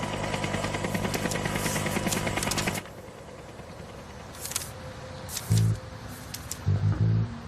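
Inside a helicopter cabin, a dense rotor-and-engine drone holds for a few seconds, then drops away, leaving quieter cabin noise broken by a few short thumps and bursts.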